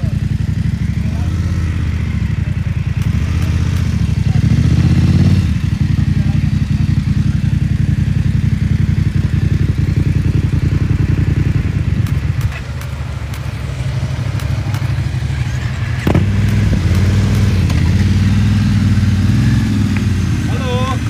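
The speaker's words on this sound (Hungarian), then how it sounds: "Milyen jó hangja van ennek a GS-nek, ahogy beindult." A BMW GS motorcycle engine runs steadily just after starting, on the Stelvio Pass, with a loud, continuous low rumble throughout and a brief dip partway through. Voices are faintly audible in the background.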